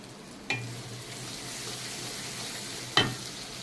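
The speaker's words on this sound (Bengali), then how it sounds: "এখন এর ভিতরে দিয়ে দেবো আমি কিছুটা জল।" Water hits a hot pan of fried mustard spice paste twice, each time with a sharp hiss that settles into a steady low sizzle. The sound is close and moderately quiet, with no talking.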